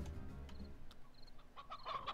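Chickens cluck softly in the video game Slime Rancher, a few short, faint clucks scattered over a low, steady background hum.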